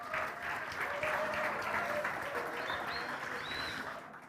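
A church congregation applauds for Vero during a Sunday service, with steady dense clapping throughout and a few voices and chirpy tones mixed in.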